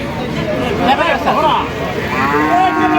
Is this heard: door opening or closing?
no